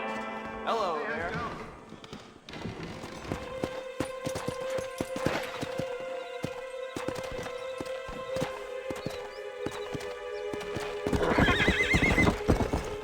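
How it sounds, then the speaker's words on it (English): A horse in Red Dead Redemption gives loud, wavering neighs near the start and end, with hooves clopping in between over a sustained musical drone. "Quando o cavalo emite esse som"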